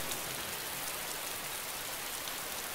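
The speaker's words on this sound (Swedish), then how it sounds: "för mig har det regnat lite längre" Steady rain in the survival video game DayZ, a dense, even hiss of falling drops that holds constant throughout with no voices over it.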